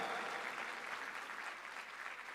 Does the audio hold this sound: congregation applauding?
yes